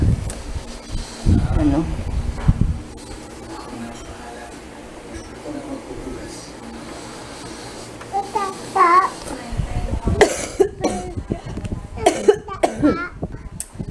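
Several sharp coughs burst out near the start and again later, mixed with low background hum and scattered clatter of handling.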